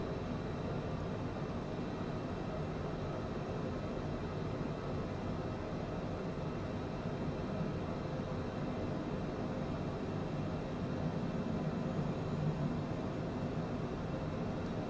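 Cessna Citation CJ4 jet engines under climb power in Microsoft Flight Simulator 2020, a steady, low, even drone with broadband roar continuing unbroken throughout.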